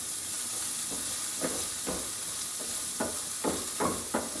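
Onions and garlic sizzle in oil on a stove turned as low as it goes, a steady hiss broken by repeated scraping stirs at irregular intervals, close and alone.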